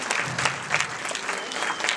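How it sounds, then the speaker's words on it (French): An audience at a film festival closing night applauds the participants, steady dense clapping close by with a few louder individual claps throughout. "Merci vraiment de les applaudir."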